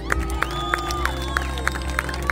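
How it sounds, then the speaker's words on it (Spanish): Crowd at a comedy show with fire juggling, cheering and clapping in a lively, continuous din with sharp periodic pops cutting through. "¡Aplausos, por favor!"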